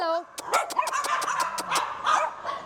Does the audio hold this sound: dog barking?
yes